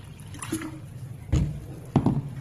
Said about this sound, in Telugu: ఇక్కడ నేను నార్మల్ వాటరే తీసుకున్నాను టూ ఫిఫ్టీ ఎంఎల్ వాటరు